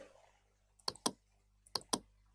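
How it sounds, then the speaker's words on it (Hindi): Computer mouse clicks while selecting a school option in an online form, two quick double-clicks, sharp and close in a quiet room. "यहाँ पे हम स्कूल पे क्लिक करेंगे।"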